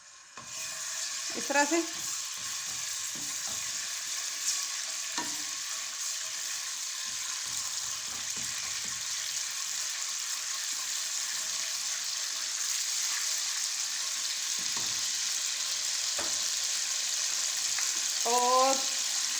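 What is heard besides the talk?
ginger garlic paste frying in hot cooking oil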